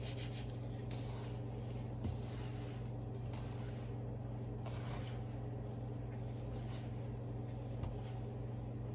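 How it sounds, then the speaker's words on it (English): Bath bomb mixture rubbed between fingers, giving a soft continuous dry rubbing hiss, close and quiet over a steady low hum. "I'm just rubbing it between my fingers."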